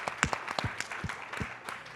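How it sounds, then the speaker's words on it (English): Scattered hand claps from a small audience at a business productivity session, quiet and uneven, with a faint voice underneath. "Round of applause for Anthony."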